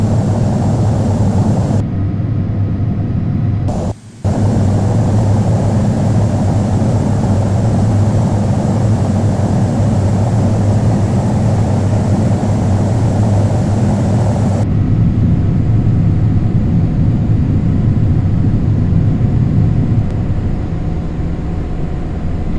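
An Asiana Airbus A321 taxis at an airport in Flight Simulator X, with a loud, steady engine roar that holds for the whole stretch, briefly cut out once and thinning slightly near the end.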